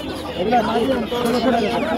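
Three-month-old Brahma chickens clucking amid the bustle of a crowded poultry and pet market, steady low fowl calls blending with nearby voices and chatter throughout.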